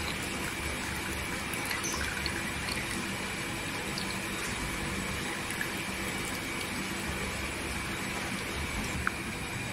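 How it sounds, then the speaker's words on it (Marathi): Hot jaggery tea being poured into a cup, a continuous close splashing, trickling stream at steady loudness that lasts the whole time, with no talking. "इथे चहा पूर्णपणे झालेली आहे, आपण कपामध्ये ओतून घ्यायची।"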